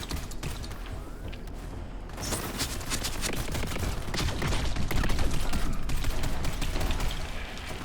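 Sustained rapid gunfire in Borderlands 3 at Mayhem 3 difficulty, loud and dense with overlapping shots and mechanical clatter that build in intensity toward the middle before easing slightly.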